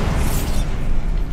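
Bombarda blasting spell from Hogwarts Legacy going off as a loud, heavy explosive burst with a rumbling low end, fading into debris-like crackle over a second or so.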